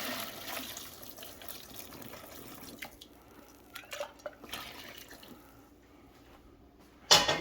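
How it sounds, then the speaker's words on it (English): Hot water is poured into a brand-new boxing heavy bag being soaked to break it in. Faint trickling and dripping are followed by a sharp, louder gush at the end. "throw some hot water in there."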